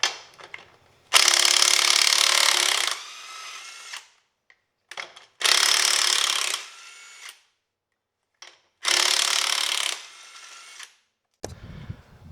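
A DeWalt 20V 1/2 inch impact wrench works lug nuts in three loud bursts of rattling, hammering whir, each about two seconds long and separated by short pauses with brief trigger blips.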